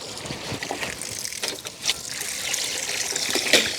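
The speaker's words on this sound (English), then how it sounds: "the water is pouring out now" Water streams and trickles from a filled bucket chicken waterer in a steady, close splashing wash, with a few brighter drips and splashes over the running flow.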